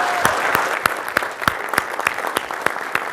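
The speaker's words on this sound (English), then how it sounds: "give her a big round of applause." Audience applause for a speaker at a speaker event, loud and close, with sharp individual claps standing out rhythmically over a steady wash of hands.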